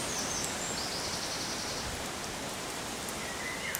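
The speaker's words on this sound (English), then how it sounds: "Ah, feeling the rain now." Steady rain falling, a dense even hiss of drops across the whole clip with no voices.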